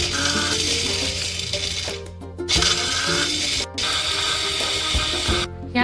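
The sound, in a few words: mixer grinder grinding coconut, peanuts, ginger, garlic, coriander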